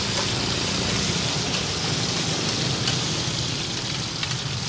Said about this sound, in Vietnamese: thấy anh chiên nó vàng đều nè